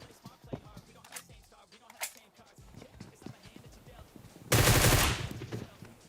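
Rapid bursts of gunfire in PUBG crackle amid clattering game sounds, ending in one loud sustained blast; a voice talks in the background.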